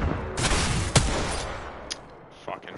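Gunfire in the video game Apex Legends: several sharp shots ring out in a busy firefight, one loud crack near the start and fainter bursts later, over a steady background wash.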